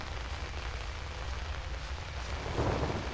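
Steady rain falls in Outlast, a dense even wash of noise with a deep low rumble that swells slightly toward the end, with no talking.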